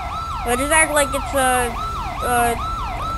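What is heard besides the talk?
police car siren in GTA 5 video game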